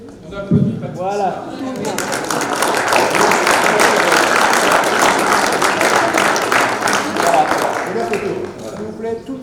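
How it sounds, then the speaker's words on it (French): Audience at a dinner recital at the Automobile Club de France breaking into sustained applause, a dense wash of clapping that starts after a brief voice and lasts for several seconds before tapering off. "On applaudit."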